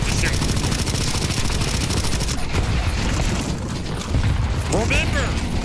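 Rapid, sustained automatic gunfire in CS2 Zombie Escape on the NewYork Escape map, with dense overlapping bursts from several weapons and loud booms, all close and continuous, with voices partly mixed in.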